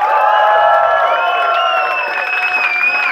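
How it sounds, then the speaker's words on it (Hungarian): A crowd at a club night aboard the A38 ship in Budapest cheers loudly, with sustained high-pitched shouting and whooping over a continuous roar and faint clapping. "Egy nagy tapsot szeretnék kérni Kálai Szandrásnak."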